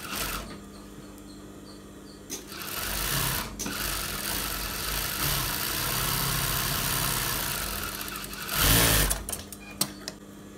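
A domestic sewing machine runs in long continuous bursts while stitching a school uniform shirt collar, its steady mechanical whir close and loud, pausing briefly before a final short run.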